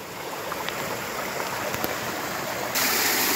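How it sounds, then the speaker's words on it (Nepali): The Khardu stream in Dharan babbles and rushes over a small waterfall, a steady close outdoor roar of broadband water noise that swells louder near the end, with no voices. "यो खर्दु खोलाको कलकल पानी छङ छङ यो झर्ना साँच्चै लोभ लाग्दो छ"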